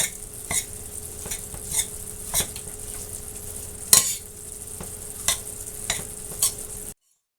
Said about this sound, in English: putting the breadcrumbs down in it with the egg. Mixing that around good.